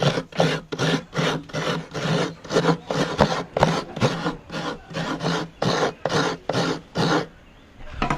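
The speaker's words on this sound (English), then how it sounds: "she has a really innovative bench coconut grinder" Coconut flesh rasped on a bench coconut grinder with a built-in shredder blade, Sri Lankan home kitchen: steady rhythmic scraping strokes, about two per second, close and loud, ending in a brief pause.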